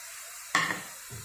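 Whole garam masala spices, cinnamon, black cardamom, cloves and peppercorns, drop into a hot pan with a single brief sizzling hiss that fades quickly, alone and fairly quiet.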